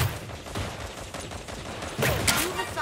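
Rapid gunfire in a video game: a dense burst of shots from an automatic weapon, loud and close, with a sharper, louder volley near the end.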